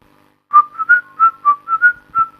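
A clear whistled melody of short, bouncy repeated notes in a catchy electronic-dance rhythm, starting after a brief silence.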